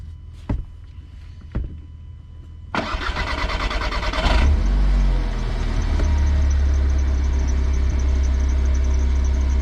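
A Volkswagen Golf Mk5 engine cranks briefly after a couple of clicks, catches loudly and settles into a steady, close idle after a fresh fuel filter replacement.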